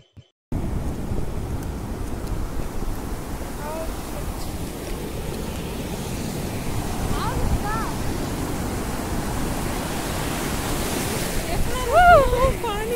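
Sea waves roll and wash steadily onto Ramapuram beach in Andhra Pradesh, a broad continuous surf roar with wind buffeting the microphone and a swell near the end, with no voices.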